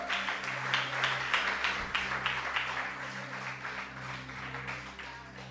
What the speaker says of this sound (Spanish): Diga un aplauso fuerte a Cristo.